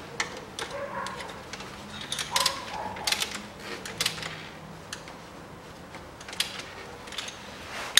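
Ratchet wrench clicking as a nut is tightened on the 2.5 turbo engine of a 2007 Ford Ranger, during a timing belt and pulley replacement; faint, irregular short bursts of clicks with mechanical clatter, no talk.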